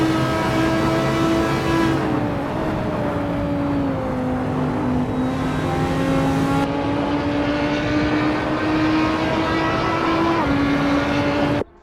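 Audi racing car in a sim-racing race taking Woodcote corner, a steady loud engine drone with harmonic tones that dip and climb as it brakes and powers through, continuous and close throughout.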